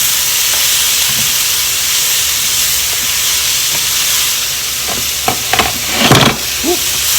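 A mushroom filling for stuffed portobellos stir-frying in a pan, a loud, even hiss of sizzling, broken near the end by a few clattering knocks of stirring.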